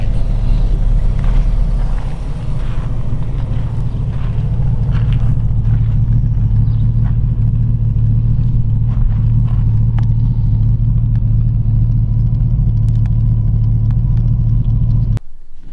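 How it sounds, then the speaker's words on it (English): A 1932 Ford Tudor resto-rod with a GM 350 crate engine idles at close range, a loud, steady low rumble holding even for about fifteen seconds before cutting off abruptly, with no talk over it. "What you hear it run here."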